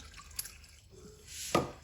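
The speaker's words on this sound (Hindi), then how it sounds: "अब पानी डालेंगे।" Water is poured into a potato and flour batter seasoned with ajwain, heard as a brief, quiet splash and a few soft drips up close, with little else around it.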